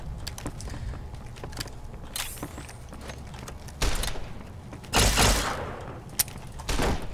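Scattered shots from an inaccurate gun in the video game Fallout: New Vegas, sharp isolated cracks with a few louder blasts, fired irregularly with pauses between them.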